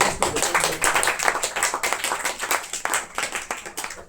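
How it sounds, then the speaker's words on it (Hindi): A burst of hand clapping from a group, steady and dense, sustained for several seconds with no talking over it. "अब ताली तुली तो बता दो"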